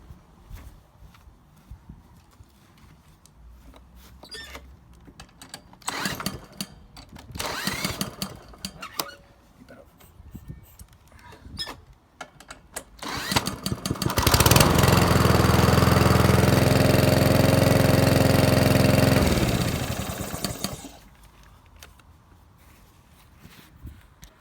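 A repaired walk-behind lawn mower with a broken pull start, started using a drill fitted with a 17mm head, bursts into loud steady running for several seconds and then cuts off, with quieter handling noises before and after.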